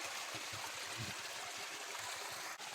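Stream water flowing steadily during a crossing of a fairly deep river, a broad continuous rush close by with low gurgles underneath and no talk.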